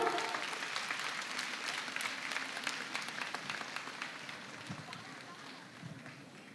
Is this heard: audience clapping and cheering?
yes